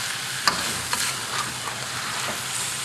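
Eel pieces with cut wedge onions sizzle steadily in a hot wok, with a few sharp scrapes and clacks of a metal spatula tossing the food over a continuous frying hiss.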